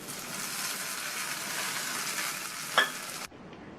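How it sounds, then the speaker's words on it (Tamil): Mustard seeds, curry leaves and dried chillies splutter and sizzle in hot oil for a coconut chutney tempering, a loud steady crackle with a brief sharper pop near the end before it cuts off abruptly into quiet. "கருவேப்பிலை, 2 கட் பண்ண காஞ்ச மிளகாய், இதை நல்லா ஒரு தடவை இந்த மாதிரி வதக்கி"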